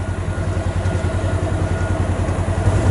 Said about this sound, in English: John Deere bulldozer. Straightening up these ruts down here.